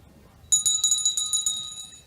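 A bell clangs repeatedly at a state track and field championship, marking the last lap of a race: a sharp metallic strike followed by a rapid run of ringing hits with a sustained shimmer, clear and fairly close.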